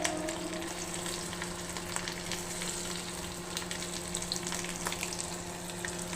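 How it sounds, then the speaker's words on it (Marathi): Potatoes frying in oil in a wok, giving a continuous crackling sizzle with small pops and a steady low hum, close and moderately loud. "कढईमध्ये तेल घातलं, बटाटे घालून घेते"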